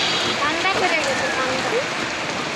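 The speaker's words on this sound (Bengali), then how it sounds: "কত সুন্দর বৃষ্টি" Steady rain patters down in a continuous hiss, with faint voices and a few whistly tones in the background.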